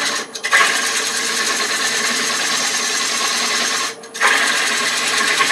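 A wood lathe spins a Bradford pear bowl at about 600 rpm as a sharp gouge takes a light cut on the tenon, producing a loud, steady whirring hum with two short dips where the cut pauses.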